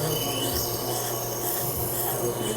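Scissor blade being sharpened freehand on an AquaHone Stylist II hone gives a steady, close, continuous rasping rub with no talking.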